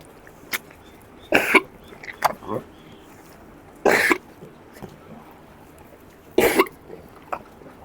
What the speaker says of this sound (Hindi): जिस तरह अभी जानवर को खांसी आ रही थी